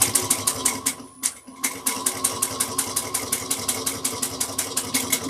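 Sewing machine backstitching through the layered flap and panel of a small bucket bag, close and steady: a rapid even run of stitching clacks with one short pause near the start, then the rhythm resumes.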